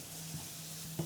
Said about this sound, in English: Oh, now we're sizzling.